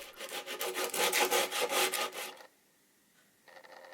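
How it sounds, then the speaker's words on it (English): Steady rhythmic abrasive rubbing while sanding a wooden Austin 7 car dashboard, loud and close, repeating strokes for a couple of seconds, then stopping briefly before resuming faintly. "Lots and lots and lots of sanding"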